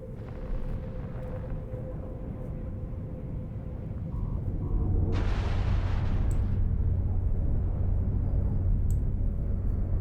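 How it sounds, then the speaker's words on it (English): Heavy weapons fire and explosions in the space game EVE Online, a dense continuous barrage of booming blasts and rumble that swells louder midway, with a sharp burst near the middle. "We're taking heavy fire, Commander Ferris"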